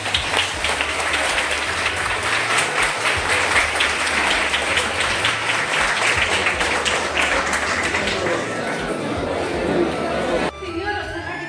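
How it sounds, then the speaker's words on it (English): Dense, sustained applause fills a national seminar lecture hall as students give a standing ovation, steady crowd clapping with some chatter mixed in, dropping off abruptly near the end. "with big claps, with standing ovation to the success of this one-day attendance lecture."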